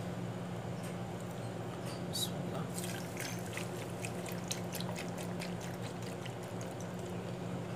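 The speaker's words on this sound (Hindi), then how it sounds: "तो अब जी इसमें डालते हैं दूध।" Milk poured into a melon shake, a steady liquid pour with light splashing and trickling over a constant low hum, with no voices.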